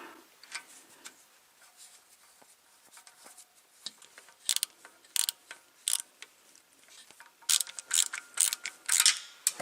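Screws going back into the DCT filter housing of a C8 Corvette: quiet ratcheting clicks and light mechanical ticks, growing denser and sharper toward the end, with no talking.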